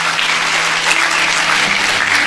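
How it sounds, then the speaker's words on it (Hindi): An audience at a religious talk claps, a loud, close, even patter of many hands that fills the whole moment without pause. "मुझे पता था 2-4 लोग ही ताली बजाएंगे।"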